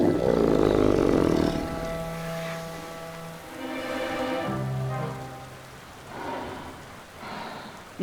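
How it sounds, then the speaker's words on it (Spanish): Elephant seals roar on a calm bay shore during a stormy trip, deep guttural bellows rising and falling in several long calls over wind and rain noise. "Caminamos entre focas elefantes."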